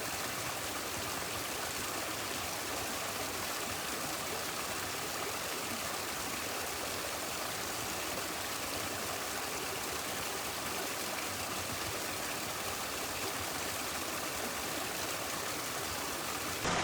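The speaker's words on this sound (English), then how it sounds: "So I'm focusing my attention here while we're down here on this small waterfall that's a bit further downstream from the main one" A small waterfall pours into a stream running over rocks, a steady, full rushing wash with no breaks that stays loud and close the whole time.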